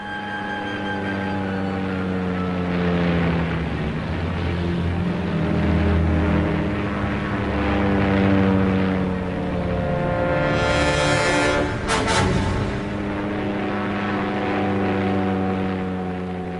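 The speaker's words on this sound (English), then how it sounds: "In the killer group, one plane develops a problem with its wheel as it heads down the runway." World War II P-38 Lightning fighter planes roll down a runway, their propeller engines making a loud, sustained droning hum that swells and shifts in pitch, with a brief hissing burst partway through.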